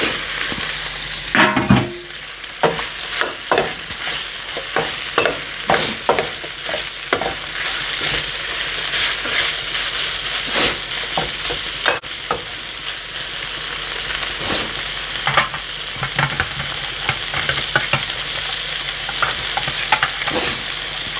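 Sweet peppers and onions sizzle steadily in a hot pan, with frequent scraping stirs and utensil knocks throughout and no talking.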